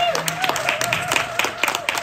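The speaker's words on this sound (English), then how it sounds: "please give yourselves another round of applause" Audience clapping at a Leiden High School matric dance, a steady ripple of applause from a crowd filling the room, with a voice talking over it.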